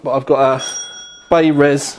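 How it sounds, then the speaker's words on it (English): A doorbell chimes briefly, a clear ringing tone between two stretches of a man's speech. "that was my doorbell by the way"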